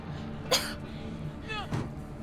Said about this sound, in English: They'll hear you coughing.